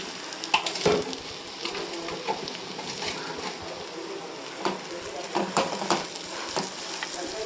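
Potato stirred with salt in a hot pan while making ulla kaalangal bonda, with a steady sizzle of frying and scraping spoon strokes against the pan, close and fairly loud.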